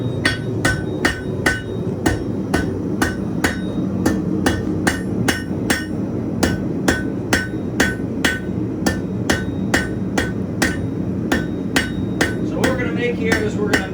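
Hammer forging 1/4 inch square steel stock into a wall hook in a shop: sharp metallic blows ring out at a steady rhythm, roughly two per second, close and loud over a low background hum.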